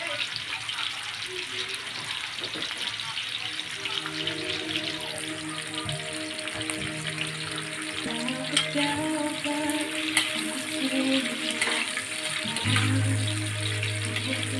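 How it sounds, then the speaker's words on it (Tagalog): Fried chicken frying over low heat gives a continuous soft sizzle and crackle, with music playing quietly beneath it. "So ating fried chicken lulutuin natin siya sa low fire."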